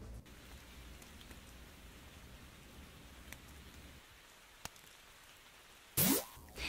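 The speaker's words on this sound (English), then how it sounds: "Let's listen to some audio he captured in a Thailand forest." Field recording in a forest in Thailand, a soft steady wash of ambient noise like light rain with faint drips and ticks, quiet and distant, ending with a short louder rustle.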